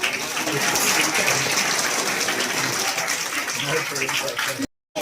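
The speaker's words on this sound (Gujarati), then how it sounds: "તાળીઓથી વધાવી લેશું" Dense, sustained clapping from a crowd at a school admission festival, a broad continuous roar of applause that holds steady throughout before cutting off abruptly near the end.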